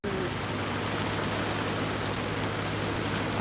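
Heavy rain pours down over a village, a dense, unbroken roaring hiss that stays loud and steady throughout.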